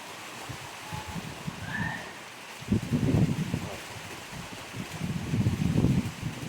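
Heavy rain and wind at sea aboard a small boat: gusty, rumbling wind buffets close to the microphone in uneven surges, with a steady hiss of rain underneath.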